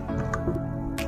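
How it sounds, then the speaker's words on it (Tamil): Kangen alkaline water being poured, heard as a short, wet dripping and splashing trickle up close, with no talking over it. "ஸோ கெங்கன் தண்ணியை நம்ம இப்போ ஊற்றுவோம்."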